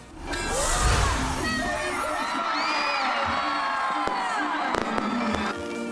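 Fireworks burst and crackle at an outdoor giant Christmas tree lighting in Marikina, with a cheering, whooping crowd and children's shouts filling the air, and sharp pops cutting through near the end.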